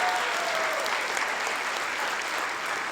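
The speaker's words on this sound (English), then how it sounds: "Let's get one more big round of applause for our 5th grade beginning band." An audience applauds a fifth grade beginning band at a school Christmas concert, a steady, full wash of clapping from a large crowd that holds evenly throughout with no speech over it.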